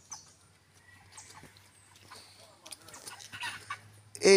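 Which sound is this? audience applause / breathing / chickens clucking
chickens clucking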